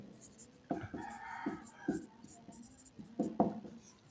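Hand writing of a maths solution, a series of soft, close scratching strokes at an irregular pace, quiet against low background noise.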